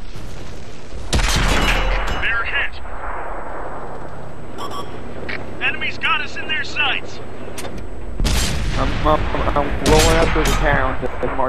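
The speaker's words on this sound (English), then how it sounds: "Artillery." Artillery and gunfire in a tank video game, with a tier 8 tank fighting in a tier 6 match: loud booming shots and bursts of fire, one heavy blast early and another cluster near the end, under someone talking.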